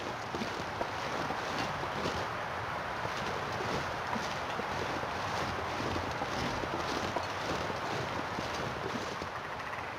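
Steady, blustery video game wind in The Long Dark roars continuously, a broad rushing noise with slight gusting swells, loud and close throughout.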